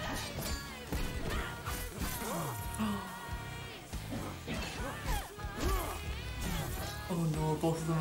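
Loud crashing and shattering impacts of metal weapons breaking, with whooshes amid dramatic music in the RWBY animated series, a dense, busy action mix with voices mixed in.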